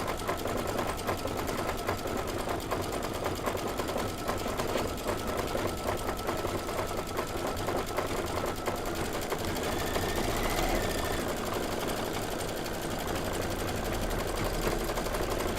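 Embroidery sewing machine stitching a Confetti 2 fill, a continuous fast rhythmic whir and needle patter, steady and fairly quiet throughout.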